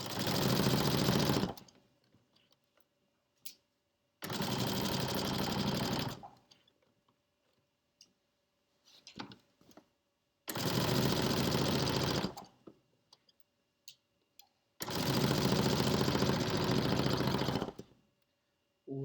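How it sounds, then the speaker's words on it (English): Electric sewing machine stitching a pillowcase, four loud bursts of rapid whirring of one to two seconds each separated by quiet pauses with faint clicks and handling noises. "now I'm going to start sewing again"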